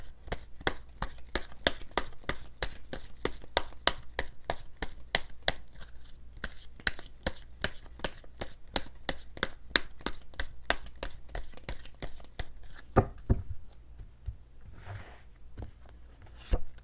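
Tarot cards riffled and handled in a rapid, steady run of crisp clicks and flutters for most of the stretch, close and fairly loud, easing into a few softer slides and taps near the end with no talking.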